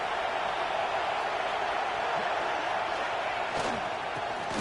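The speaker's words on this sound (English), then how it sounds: "this crowd is fired up. Listen to this noise here." A packed football stadium crowd roars and cheers as a dense, continuous wall of noise, steady and loud throughout with no single voice standing out.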